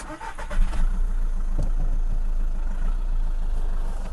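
A 2011 Volkswagen Golf engine cranks briefly and catches, then settles into a steady low running hum, close by with no talking.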